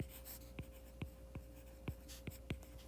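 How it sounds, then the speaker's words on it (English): Pen tapping and scratching as formulas for a one-proportion z interval are handwritten, a series of about seven soft, evenly spaced strokes over a steady low hum, faint and close. "I'll go ahead and write it out for you."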